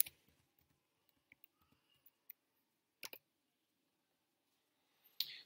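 Sparse, faint computer mouse clicks and light keyboard taps while searching a gene database, a few isolated clicks with quiet gaps and a sharper click burst near the end, no talk.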